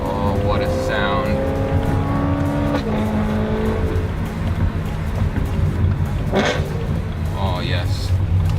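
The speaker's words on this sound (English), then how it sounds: "Now if you turn on that M mode and you do those downshifts, this." A modded BMW E92 M3 V8 downshifting in M mode, loud and close, with rising revs and sharp throttle blips between gear drops, under excited talk.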